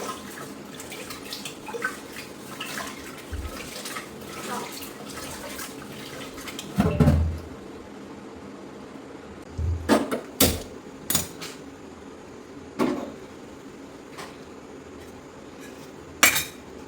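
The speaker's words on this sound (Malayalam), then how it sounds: "ഈ കറിക്കലമൊക്കെ തേച്ചതല്ലേ." Curry pots and dishes are washed at a kitchen tap, with scattered metallic clanks and knocks of vessels over a light wash of water, and no voices.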